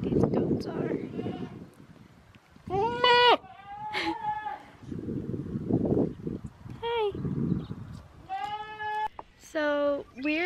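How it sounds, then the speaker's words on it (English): Goats bleating on a farm outing, several harmonic, wavering bleats repeating close by, interleaved with people talking in the background. "Look how cute these goats are."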